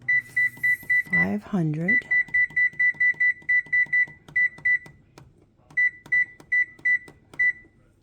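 An oven's control panel beeps as it is set to bake, a long series of short, evenly spaced electronic tones in clusters with a brief pause partway through; a person talks over the start.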